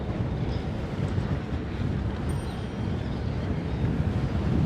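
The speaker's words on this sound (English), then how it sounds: "Nice and windy right up here, feels good." Steady wind buffets the microphone on a Manhattan rooftop in New York City, a continuous low rushing roar with no talking.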